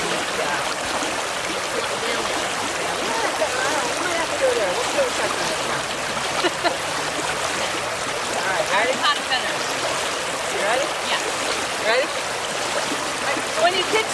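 Shallow riffle of the Sandusky River pouring over rocks, sand and pebbles while someone kicks through the gravel streambed, a steady broad rush of water with splashy surges throughout, close and continuous.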